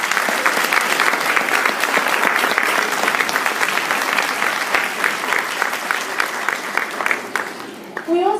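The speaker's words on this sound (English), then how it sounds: "Please give them a round of applause." A school fine arts audience claps warmly, a dense, loud and steady wash of applause sustained for several seconds before thinning out near the end.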